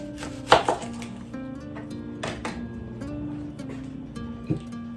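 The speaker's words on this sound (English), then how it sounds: "I'm just gonna cut up a few onions just to give it some nice flavor." A knife chopping onions on a board, a few sharp close thuds spaced irregularly over a low kitchen hum with faint tonal background sound.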